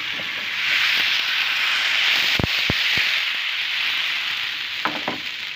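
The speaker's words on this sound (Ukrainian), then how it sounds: "на розігріту сковорідку я наливаю десь чайну ложечку олії і наливаю тісто" Crepe batter poured onto about a teaspoon of oil sizzles and hisses in a preheated pan, a steady frying crackle with a few sharp clinks of a utensil partway through.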